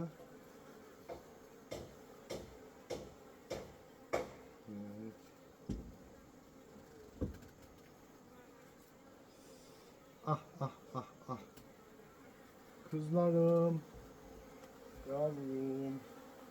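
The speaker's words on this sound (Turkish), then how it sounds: "herhalde böyle kızıyor bu arı" Angry honeybees buzz in short agitated bursts over a quiet background during a hive queen check, with scattered taps and a few louder, rising whines toward the end.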